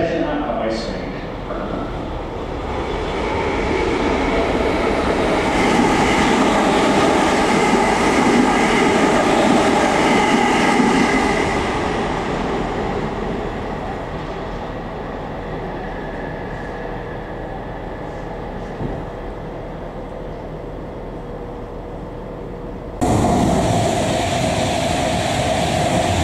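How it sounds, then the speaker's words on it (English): A heritage train rushes through a station at speed during a railway gala, a loud sustained rumble and clatter swelling over several seconds then easing off, with a sharp shift in the background near the end. "trains pass through this station at high speed"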